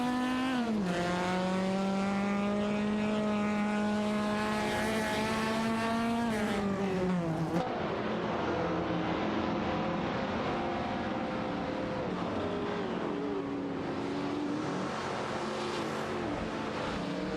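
Engine whine from computer-controlled race cars in a video game race, including a Tavo Griffith 200, rises and falls in pitch as cars pass and shift, overlapping continuously and loud, with no talking.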